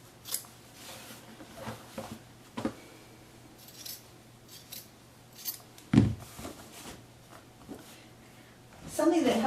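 Scissors trim fabric close to the stitching of a piped pillow with a zipper, making a few scattered crisp snips and rustles, close and fairly quiet, with the fabric being handled between cuts.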